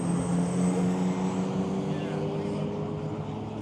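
A racing car engine drones steadily through a race, heard fairly close and steady for a few seconds, with someone talking over it.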